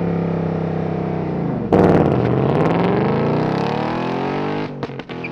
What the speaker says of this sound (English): launching that Mach 1 is so easy, it's so consistent, just puts down the power unlike any other Mustang we've driven